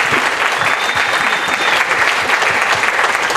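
Loud, dense applause from a concert audience at the Fonoteca Nacional de México fills the full stretch as steady close clapping, with crowd noise mixed in.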